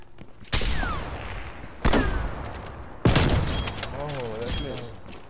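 Three loud, sharp sniper rifle shots at spaced intervals in a Cold War sniper 1v1 video game, each with a long ringing tail, with faint voices underneath.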